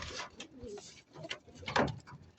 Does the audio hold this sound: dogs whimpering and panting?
no